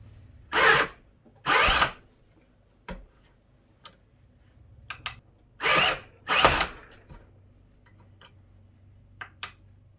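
A power drill at its highest clutch setting whirs in four short bursts, each about half a second, reaming the neck of a brass 300 AAC Blackout cartridge case in a shell holder, with light ticking and clicking between pauses.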